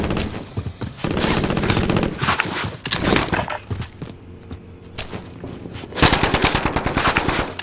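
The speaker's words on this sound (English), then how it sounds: "I am under fire." Machine gun fire in Call of Duty Modern Warfare, dense rapid automatic bursts close by, pausing briefly before another loud volley erupts.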